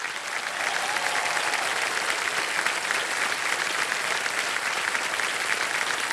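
A TV quiz show studio audience on Kaun Banega Crorepati claps steadily and loudly, a dense sustained wash of applause that swells in at the start and holds throughout.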